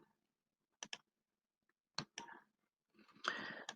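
A computer mouse clicks on spreadsheet filter buttons, a few sharp, close clicks in pairs separated by quiet gaps, followed by a brief rustling burst.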